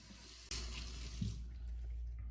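Bathroom tap running into a sink while a man wets his face before shaving, a steady close rush of water that starts abruptly and continues unbroken.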